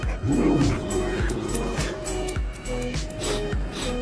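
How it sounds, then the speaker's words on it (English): A pack of hyenas yips, whoops and squeals in overlapping bursts, frantic and close, with scuffling noise beneath the calls. "this pack of hyenas can no longer hold back and has begun their attack"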